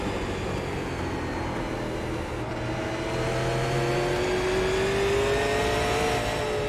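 Super Late Model race car engine in the iRacing sim at Myrtle Beach Speedway, a steady loud drone that climbs in pitch as the throttle builds, with no talk.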